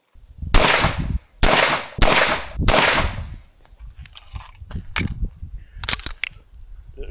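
Gunshots from a backup competition pistol without ports: three loud sharp reports about a second apart, then fainter scattered clicks and distant pops.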